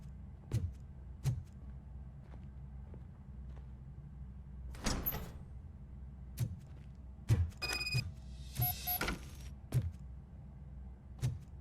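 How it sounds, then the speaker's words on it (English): A door opens in the video game RoboCop Rogue City with a series of sharp mechanical clunks spread across several seconds and a brief whirring slide midway, set against a quiet, low ambient hum. "Now let me get that door open for you."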